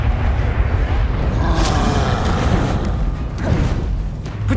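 Bombarda explosion spell going off in Hogwarts Legacy, loud booming blasts and crashing debris layered over continuous battle noise, with a sharp burst near the middle and another rumble toward the end.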